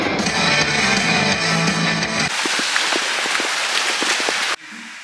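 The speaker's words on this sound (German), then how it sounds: "Es regnet ein bisschen." Rain falls steadily during a bikepacking trip from the Dolomites to Lake Garda, a continuous close hiss of drops with a noisier stretch at first and then a sudden drop in level near the end.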